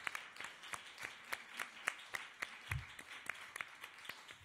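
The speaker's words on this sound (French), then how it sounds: "Applaudissons-nous tous." Conference audience applauding in a fairly quiet room, a sparse patter of individual claps with distinct sharp hits spread evenly and fairly faint.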